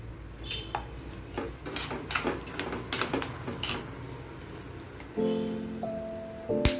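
Chana dal and urad dal dropped into a hot pan while tempering raw mango pulihora give a close irregular crackle of pops and sizzle, followed by a few sustained tonal clinks near the end, with no voices.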